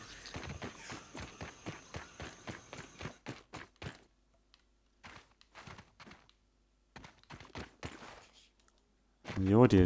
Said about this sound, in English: I can hear my footsteps and everything